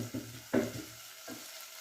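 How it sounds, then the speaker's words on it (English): Spring onions cook in a pan for an omena sardine dish, giving a quiet, close sizzle with a few brief stirring clatters. "So I'll let the spring onions cook."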